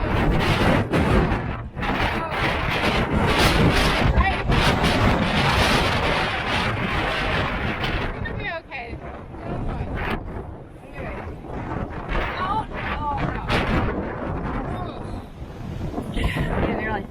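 Strong, cold wind on a mountain bike ride in New Hampshire, roaring and buffeting the microphone almost without pause, loud and close, with a voice speaking through it at times.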